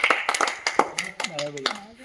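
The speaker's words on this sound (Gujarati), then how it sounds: "તાળીઓ બજાવ ભાઈના માટે તારો ભાઈ" Several people clap in short, uneven bursts for the winner of a slow-motion walking challenge, the claps close and sharp, mixed with loud talking throughout.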